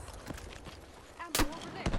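Gunfire in the Battlefield 6 campaign, a few sharp shots with one loud burst near the middle and another at the end, set against battle noise and shouted voices.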